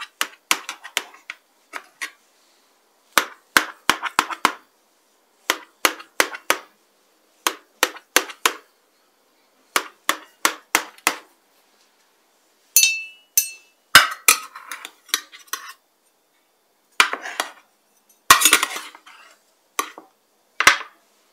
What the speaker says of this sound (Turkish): Kekim pişti. Biraz dinlendirdim, kesiyorum.